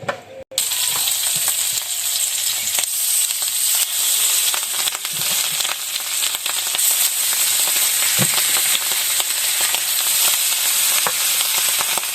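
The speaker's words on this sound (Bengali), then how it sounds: "এই তো মাছ ভাজা হয়েছে" Hilsa fish pieces coated in turmeric and salt fry in hot oil with a loud, continuous bright sizzle and scattered crackles and pops, close up and steady throughout.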